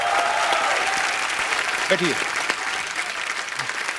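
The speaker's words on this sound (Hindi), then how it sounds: "दोनों के लिए जोरदार तालियां." A television comedy show's studio audience breaks into loud sustained applause, a dense steady roar of clapping while a host speaks briefly over it.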